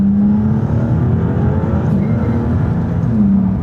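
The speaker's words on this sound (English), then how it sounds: "Oh, nice turbo. Yeah. Yeah, lots of noise." A turbocharged Maserati engine roars steadily close by, a low growling drone with a rising turbo whine, loud and continuous throughout.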